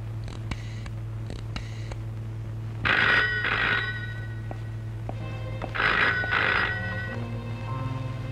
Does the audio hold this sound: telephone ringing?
yes